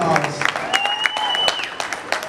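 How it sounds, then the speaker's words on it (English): Applause from a crowd, a brief burst of clapping with a voice speaking over it and a faint tone ringing underneath. "Give yourself a round of applause."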